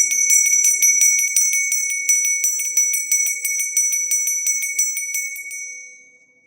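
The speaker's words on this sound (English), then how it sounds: "I'm going to ring the bell, clear your energy" A bright bell is struck repeatedly in a steady rhythm, each ring chiming close and clear before the tone fades out at the end.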